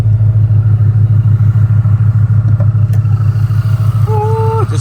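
A 1000hp 2024 Ford Mustang Dark Horse running E30 race fuel drives with a loud, steady low engine drone throughout, and a brief rising whine appears near the end.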